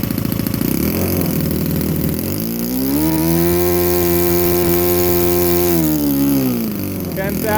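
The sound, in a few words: Saito 82 nitro model engine running at high RPM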